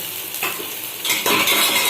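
A sprig of curry leaves sizzles in hot oil with tomato while a spoon stirs the pan, giving a bright crackling hiss with a louder burst of frying and scraping partway through, no talk.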